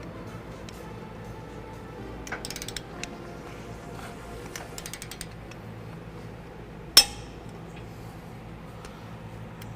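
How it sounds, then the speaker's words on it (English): A torque wrench tightens the bolts of a front-mount trailer hitch to 75 foot-pounds on a 2011 Ram 1500. Short bursts of ratcheting clicks are followed by a single sharp click, over a quiet, steady background. "So let's get those torqued down into place and get this hitch done."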